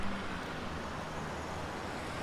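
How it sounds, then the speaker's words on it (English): Steady car traffic noise at King Khalid Airport in Riyadh in Microsoft Flight Simulator 2020, a continuous even broadband roadway hum with no distinct passes. "Got the appropriate car noise, even though we can't see any cars."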